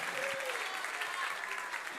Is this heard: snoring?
no